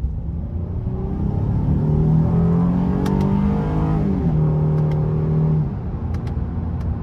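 A 2023 Honda Ridgeline's 3.5-litre engine revs up steadily in sport mode, its pitch climbing through a couple of paddle-shifted gear changes before settling, with a constant low road rumble underneath.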